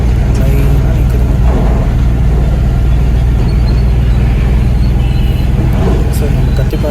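Heavy road traffic near the Kathipara flyover in Chennai, with vehicles queued in lines, makes a loud, unbroken rumble of engines close by.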